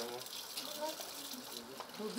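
Mineral water from a mountain spring in the village of Soimy in Zakarpattia runs and gushes steadily into a container outdoors in the rain, a continuous close watery hiss with faint voices in the background.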